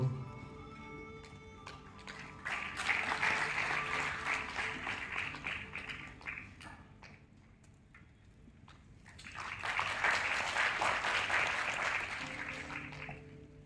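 Audience applause breaks out at a felicitation during a BSS Micro Finance scholarship distribution event: two sustained bursts of crowd clapping, the first fading out before a second, equally full wave rises and tapers off.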